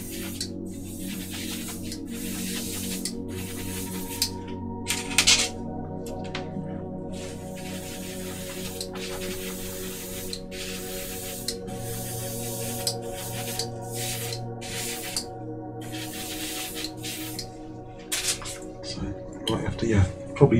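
Airbrush spraying wet coats of paint onto the plastic chassis of an Airfix Cromwell Mk IV 1/35 scale model tank, a steady close hiss running almost continuously with brief pauses, while a person talks over it.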